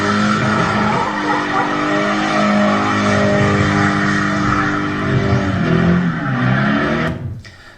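Cars driving dangerously on a public road, with loud continuous engine roar and screeching, skidding tires that keep up for several seconds before cutting off abruptly near the end.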